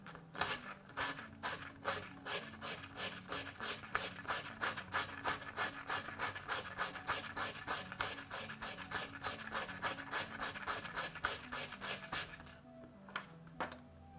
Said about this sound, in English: you could literally just use a piece of sandpaper and get some nice looks from it